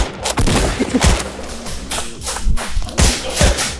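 Toy foam-dart blasters snapping off shots during a backyard Nerf war, a quick series of sharp pops and thuds spread across a few seconds, fairly close and loud, with no talking.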